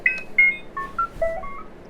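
A Star Wars toy droid from Galaxy's Edge Droid Depot chirps out a quick string of electronic beeps and warbling tones, close and fairly loud, with no talking.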